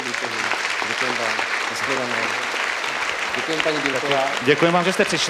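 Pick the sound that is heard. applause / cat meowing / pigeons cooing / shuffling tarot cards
applause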